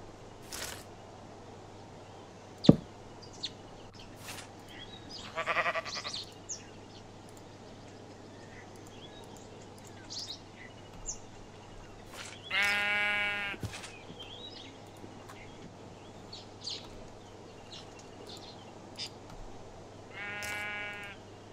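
Minecraft sheep bleating in a modded game, with two clear wavering bleats, one around the middle and another near the end, over a steady low background hum with scattered soft game noises.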